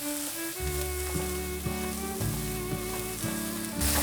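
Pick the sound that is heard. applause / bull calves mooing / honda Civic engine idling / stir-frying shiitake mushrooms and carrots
stir-frying shiitake mushrooms and carrots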